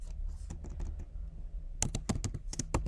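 Code is typed on a computer keyboard in quick, uneven bursts of clicky keystrokes heard up close. A sparse patter gives way to a denser flurry in the last second, with no talking.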